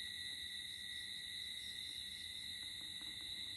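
Crickets chirp at night under a cloudy sky outdoors, a steady, high, continuous shrill drone of several insects, faint but unbroken, with no voices.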